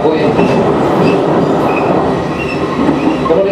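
Limited Express Shinano train running, a steady loud rumble of rails and carriage noise heard from inside, with faint wheel squeal and clatter continuing throughout.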